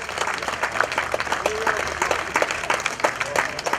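Outdoor garden concert audience applauding the swing band musicians, a dense burst of many hands clapping with a few louder claps standing out near the front.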